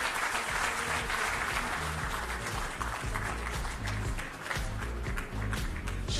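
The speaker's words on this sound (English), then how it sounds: "Can we have a round of applause for our honorable chief guest?" An awards ceremony audience gives sustained, dense applause for the chief guest, steady clapping from a large crowd lasting several seconds.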